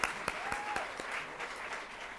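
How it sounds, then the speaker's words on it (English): Graduates at an occupational therapy pinning ceremony receive applause from the audience, a fairly quiet patter of clapping with a few sharper claps and a faint whoop rising above it. "We give them another hand."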